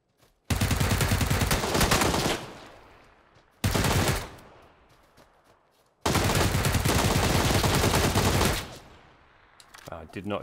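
Loud automatic gunfire from PUBG on Xbox One X comes in three long, sustained bursts separated by short gaps, each ringing off in a trailing echo, with no talk over it.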